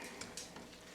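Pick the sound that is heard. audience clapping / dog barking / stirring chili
stirring chili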